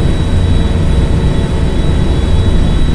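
An airliner in the GTA flight simulator game takes off and climbs, its jet engines a loud, steady low roar with a thin whine above.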